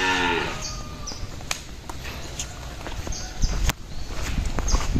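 A three-year-old PO bull moos loudly nearby at the start, followed by shuffling hooves and rustling farmyard noise with occasional knocks.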